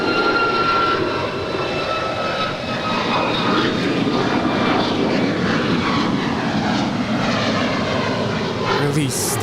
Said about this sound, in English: That is Alaska 503 departing to Seattle. It's a 2-year-old 737 MAX 9.